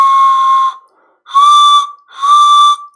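A pan flute played in three loud, clear sustained notes, each one bending upward in pitch at its start, with short silences between them.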